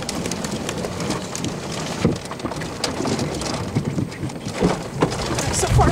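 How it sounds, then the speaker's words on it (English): Heavy rain pounds steadily and loudly on a vehicle during a tornado-producing storm near Dimmitt, Texas, in April 2017, a dense continuous patter with no break. "Now, I'm being hit by rain."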